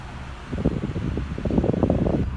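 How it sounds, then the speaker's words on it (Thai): Air conditioning blowing inside a Honda City sedan with automatic transmission, a steady close whoosh of the cabin fan with rustling fluctuations that grow slightly louder toward the end. "อันนี้ผมเปิดแอร์ไว้นะครับผมเย็นๆหนาว ๆ เลยนะครับ"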